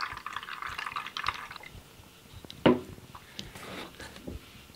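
Water trickles steadily into the reservoir of a smart plant pot, with a soft splashing pour. A sharp knock or bump sounds partway through, followed by quieter drips and handling.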